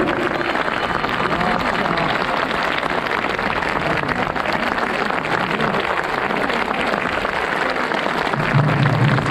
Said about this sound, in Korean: 여러분 너무 뜨 박수를 다시 한번 부탁드립니다.